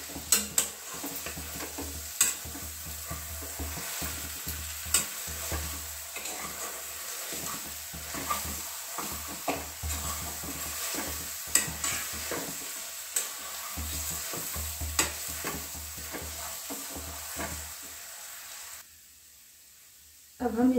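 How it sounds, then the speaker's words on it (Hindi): A suji and potato mixture with salt being stirred in a pan, with repeated scraping strokes over a soft sizzle, steady and close, before falling quiet near the end. "इसमें स्वाद के अनुसार नमक भी डाल देंगे और इसको भी मिक्स कर लेंगे"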